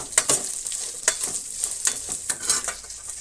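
Cumin seeds fry in hot oil with a steady, close, bright sizzle, and a spoon knocks and scrapes the pan at irregular intervals for a few seconds.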